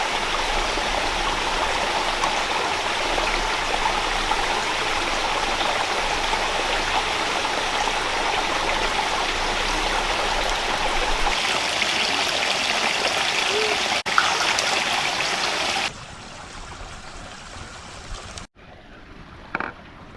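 A rainforest river flows in a steady, broad rush of water, close and continuous, before the sound drops abruptly to a quieter background with a few small knocks near the end.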